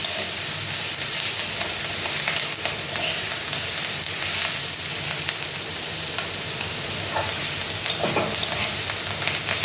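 Leafy greens fry in a hot pan, a loud, steady sizzle with repeated scraping and clinking as the spatula stirs them, close up and with no talk.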